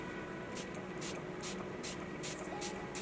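Several short hissing bursts of MAC Fix Plus setting spray misted onto a face, in a quick, uneven rhythm, close but faint over a steady background hiss.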